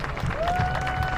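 A homecoming crowd at a college football game, St. Francis (Ill.) against Indiana Wesleyan, claps steadily in a broad, continuous wash of applause with a faint tonal whine running through it.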